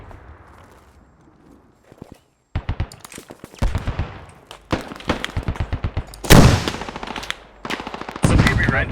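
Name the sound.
gunfire from the video game Squad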